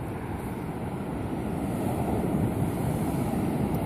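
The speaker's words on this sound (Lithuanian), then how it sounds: "Va štai tokia ta gražioji jūra." Sea waves wash onto the beach in Tel Aviv on a hot day, a steady, full roar of surf mixed with wind buffeting the microphone, continuous and fairly loud throughout.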